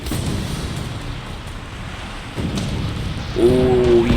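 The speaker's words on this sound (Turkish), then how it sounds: "Fırtına başladı." Thunderstorm in the video game Rise of the Tomb Raider: steady rain-like hiss and low rumbling thunder roll throughout, swelling louder near the end as a sustained tone enters.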